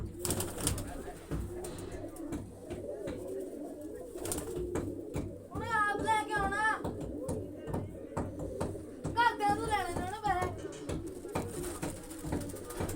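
Pigeons coo in a loft throughout, low and fairly close, while a person speaks intermittently and other birds twitter in two brief bursts midway.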